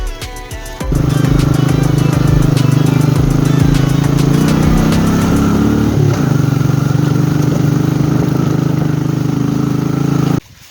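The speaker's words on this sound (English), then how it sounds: "Just a little bit of wheel spin there." An off-road vehicle spins its wheels on a dirt trail, a loud, steady engine roar with revving that holds for about ten seconds, close by, then cuts off abruptly at the end.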